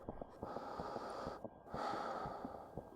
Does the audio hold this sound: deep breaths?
yes